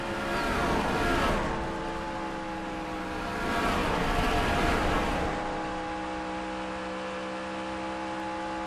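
Race car engine at full throttle during a launch through the first turn of the 2011 Good Sam RV Emergency Road Services 125, a steady loud drone that swells and fades twice, with no talking.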